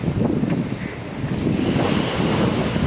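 Ocean surf rolls in at a Mumbai beach as a constant, loud rushing wash, heavily buffeted by wind blowing across the microphone, with no speech.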